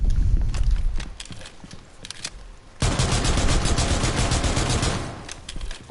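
Gunfire from a weapon in Rainbow Six Siege: loud, dense rapid-fire bursts with a brief lull, then a longer sustained stretch of shooting up close.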